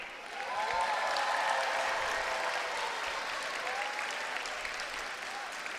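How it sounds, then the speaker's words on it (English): Sustained applause from a school audience for the student cast of a primary school production, a broad steady wash of clapping that swells in quickly and carries on with a few cheers mixed in. "round of applause for Team Candor"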